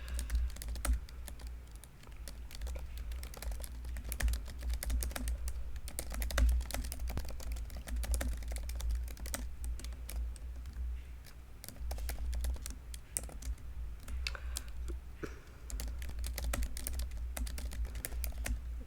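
Rapid typing on a computer keyboard during a livestream, dense continuous clacking of keys for nearly twenty seconds, close and steady with no talking.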